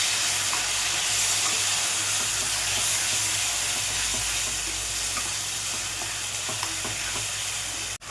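Spices and turmeric are stirred in a frying pan, giving a steady close sizzle with faint scraping throughout, ending in a sharp click.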